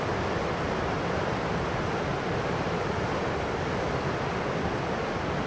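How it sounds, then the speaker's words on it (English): The Menominee River pours through rocky Piers Gorge as a steady, dense roar of rushing water, unbroken and fairly loud throughout. "give everybody a little view of the Menominee River in an area known as Piers Gorge"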